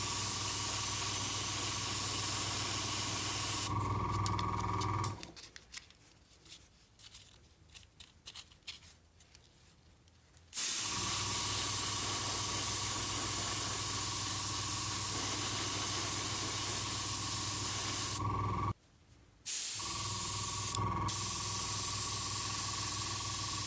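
Airbrush spraying a thin coat of bright blue paint onto a Bandai 501st Clone Trooper model kit, a steady loud hiss in two long bursts with a short pause and a brief gap near the end.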